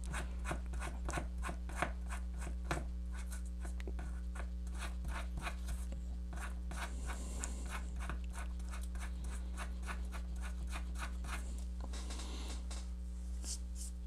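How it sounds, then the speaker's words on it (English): Small piece of sandpaper rubbing a trackpad part from an Acer C720 Chromebook, rapid fine scratchy strokes repeating steadily and close, fairly quiet over a constant low electrical hum. "What I'm going to do is sand that off"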